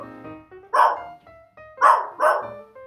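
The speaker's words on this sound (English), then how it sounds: "That dog." A dog barks three times up close, loud sharp barks with the last two in quick succession, over a soft background of distant tones.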